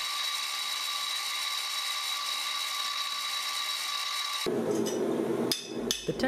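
A milling machine cleans up a metal knife guard for a WW2 commando dagger, running with a steady high whine before cutting in with rougher, grinding bursts and brief clatters near the end.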